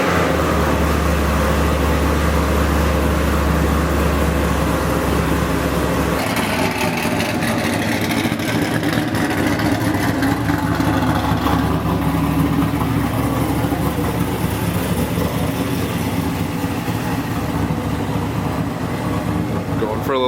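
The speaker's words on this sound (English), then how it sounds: "Going for a little test drive, a little test and tune now." A Trans Am's engine runs steadily throughout on a test drive, a continuous rumbling drone with road and wind noise, while someone talks over it at intervals.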